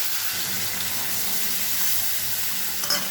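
Potatoes and spices fry and get stirred in a pan with a steady, close sizzle. Occasional scraping stir sounds rise over the constant hiss.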